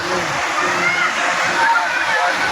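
Steady, close sloshing and splashing from many people bathing in water, a dense continuous wash with people talking over it.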